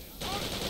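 Sten submachine gun firing in Return to Castle Wolfenstein, a sudden burst of rapid automatic fire starting abruptly and continuing loud and dense to the end.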